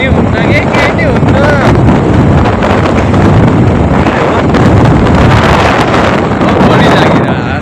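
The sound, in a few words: strong wind blowing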